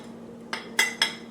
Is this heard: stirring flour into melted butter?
yes